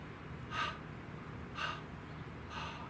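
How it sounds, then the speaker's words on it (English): Three evenly spaced sharp breaths, about one per second, taken during a dynamic breathing exercise for the torso and hips, each a short forceful exhale or snort over a quiet background. "This dynamic breathing is terrific for energizing and detoxifying."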